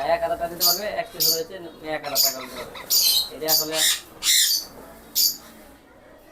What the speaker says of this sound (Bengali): এখানে কত পাখি রয়েছে কালেকশন রয়েছে আমাদের কাছে